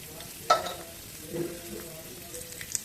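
Mustard seeds, cumin, chana dal and urad dal frying in hot oil on a high flame for tomato rice, giving a soft sizzle with a few sharp pops and light stirring clicks, fairly quiet and without talking.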